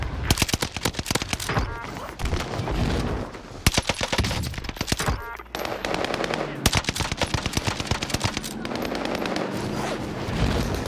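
Rapid bursts of NZ-41 automatic gunfire in the Warzone battle royale game, loud and close, repeating in long rattling strings with short pauses between volleys.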